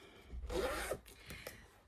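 A clothing zipper is pulled once, making a quick, close rasping zip with a couple of faint clicks after it.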